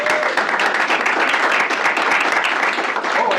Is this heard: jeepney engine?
no